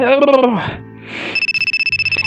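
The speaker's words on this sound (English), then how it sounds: "Then my phone rings." A voice speaks first, then after a brief pause a phone starts ringing with a rapid, pulsing electronic trill that stays loud and close.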